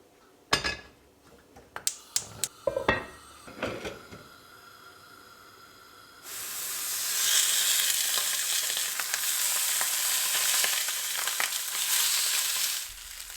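Lamb shoulder pieces are dropped one by one into a hot pan with several sharp taps and clatters, then break into a loud, continuous sizzle of searing meat that fills the rest of the clip.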